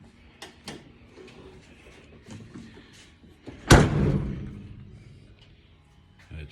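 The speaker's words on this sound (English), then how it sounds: "Let's see if the door shuts." Door of an old Jeep truck, fitted with a new seal, slammed shut once: a single loud, close thud with a ringing tail, preceded by faint handling clicks and knocks.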